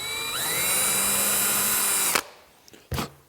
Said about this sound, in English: I'm going to pilot drill, and I'm going to drive a couple of screws.